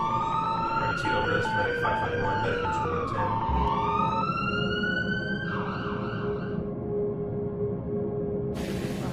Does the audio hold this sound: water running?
no